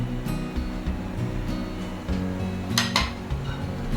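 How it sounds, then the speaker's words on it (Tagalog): Chicken is stirred with seasonings in a bowl, giving clinks and scrapes of utensil against the dish in a short irregular burst, close and fairly clear. "Haluin po natin mabuti."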